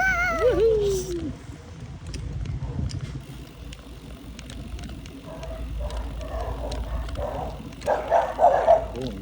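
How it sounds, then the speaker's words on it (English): Dogs bark and whine at some distance during a bicycle ride outdoors, with a drawn-out wavering cry near the start and a cluster of sharper barks toward the end over low rolling road noise. "Oh, noisy dogs"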